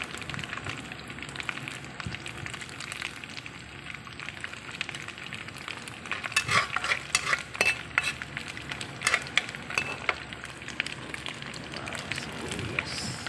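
Garlic sautéing in a pan for a creamy carbonara, a steady soft sizzle with occasional utensil clicks and scrapes, fairly quiet throughout.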